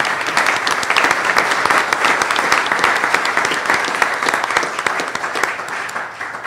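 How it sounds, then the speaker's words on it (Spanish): Loud, sustained audience applause at a genealogy panel fills the room evenly, many hands clapping close together without pause for several seconds. "Pedimos un aplauso para el doctor Lyman D."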